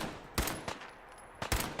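Pipe gun firing in a survival permadeath video game, four sharp gunshots arriving in two loose pairs, loud and close, with a quiet lull between them.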